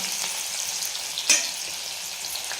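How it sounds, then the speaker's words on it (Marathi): Green chillies frying in hot oil in a pan, a steady bright sizzle with one sharp crackling pop partway through. "हिरवी मिरची टाकणार आहे. एक काही सेकंद फक्त फ्राय करून घ्यायचं आहे आपल्याला."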